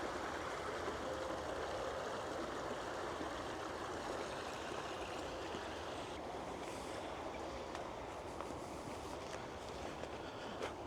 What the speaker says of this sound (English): I can hear water like thundering inside it